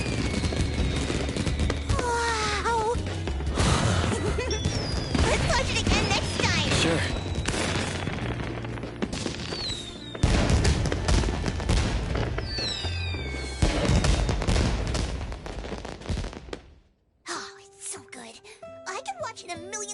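Fireworks in the video game Nerverness to Everness, a dense run of crackling bursts and booms over game music and ambience, loud and continuous for most of the stretch before dropping away near the end.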